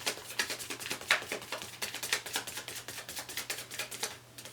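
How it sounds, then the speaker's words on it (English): Tarot cards being shuffled by hand, a rapid run of crisp papery clicks and riffles in an uneven rhythm, close and moderately quiet over a faint steady hum. "So I'm going to continue to shuffle the cards and we'll get 3 and then we'll start."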